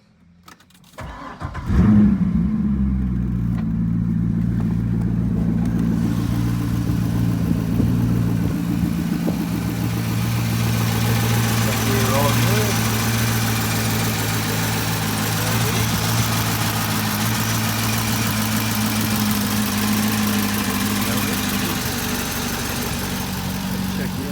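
A Chevrolet C6 Corvette, just back together after a valve cover gasket replacement, cranks briefly, fires up and settles into a loud, steady, close idle that holds to the end, with a voice faintly audible under it.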